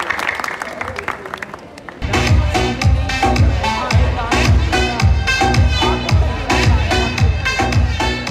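After a quiet stretch, loud audience applause suddenly breaks out and continues steadily, with rhythmic clapping filling the rest of the moment.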